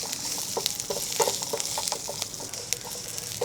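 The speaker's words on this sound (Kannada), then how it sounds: "ಈ ಹಸಿ ಮೆಣಸಿನ್ಕಾಯಿ ಹಸಿ ವಾಸನೆ ಹೋಗೋವರೆಗೂ ಕೂಡ ಚೆನ್ನಾಗಿ ಫ್ರೈ ಮಾಡ್ಕೊಳ್ಳೋಣ" Green chillies fry in a pan for Andhra-style gongura chutney, giving a bright, crackling sizzle that never lets up, dotted with quick stirring clicks and scrapes close by, and nobody speaks.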